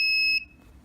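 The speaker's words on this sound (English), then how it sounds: "since it's not an LED, the buzzer will just sound off" An Arduino buzzer running the stock blink code gives a single loud, steady electronic beep that cuts off sharply after about a third of a second, followed by quiet.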